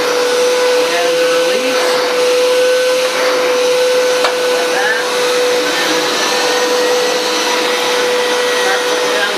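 A Hoover Powerscrub XL Pet carpet cleaner runs with a loud, steady motor whine and airy roar throughout, a constant tone holding beneath a brief spoken remark.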